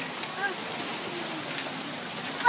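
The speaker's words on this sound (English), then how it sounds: "it's just raining now" Steady rain pouring down after a hailstorm in Cardston, a soft continuous hiss of drops on surfaces that stays even throughout, ending with a brief louder knock.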